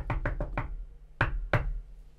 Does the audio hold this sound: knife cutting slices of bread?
no